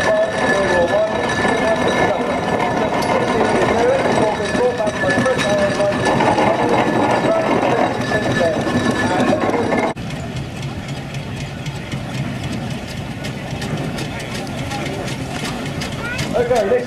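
A 1916 seven-horsepower steam engine runs in a rally parade at Strumpshaw. Its loud, continuous mechanical chuffing and rumble drops slightly in level partway through, while a commentator talks over it.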